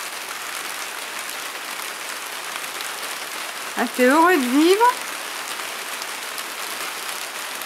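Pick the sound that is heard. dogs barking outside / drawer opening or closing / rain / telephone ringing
rain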